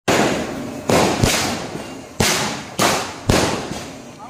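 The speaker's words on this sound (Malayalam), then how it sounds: "മറ്റൊരു സ്ഥലത്ത് വെടിക്കെട്ട്" Temple festival fireworks go off in a series of about five loud, sharp bangs, each followed by a rolling, fading rumble.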